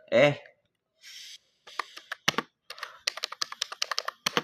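Typing on a computer keyboard and pressing enter while configuring static network routing: a brief voice opens, then scattered clicks give way to a quick, close run of crisp keystrokes.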